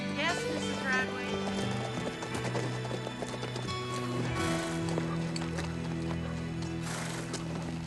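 Horses clip-clopping and neighing amid a dense, loud scene with steady musical tones and other layered sounds throughout, the hoofbeats and whinnies mixed in rather than standing alone.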